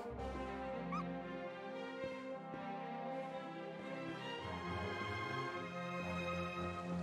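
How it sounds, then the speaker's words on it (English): A dog in the video game Dragon Quest XI: Echoes of an Elusive Age gives short yips and whimpers. They sit under steady, sustained in-game music that stays loud throughout. "Oh my god, there's a dog."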